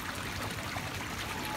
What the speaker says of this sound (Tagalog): sobrang lakas din ang agos ng tubig